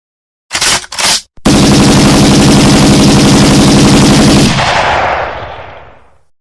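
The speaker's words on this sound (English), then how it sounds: "2nd punishment, using an AK-47 to wreck you into next week." An AK-47 fires two quick short bursts and then a long, loud, sustained volley of automatic fire that ends abruptly and leaves a fading echoing tail.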